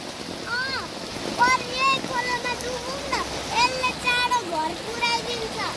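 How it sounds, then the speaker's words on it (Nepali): A large stream swollen after heavy rain rushes with a steady, broad roar, while voices talk over the water throughout. "बगाउँछ हो यो खोलो ठुलो रहेछ है"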